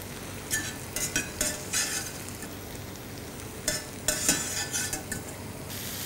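Boiled cabbage goes into a hot pan for a cabbage and moong dal curry, with loud bursts of sizzling and a few scraping stirs against a constant frying hiss.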